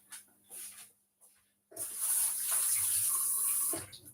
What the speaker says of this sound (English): I just added water to make it grind easily.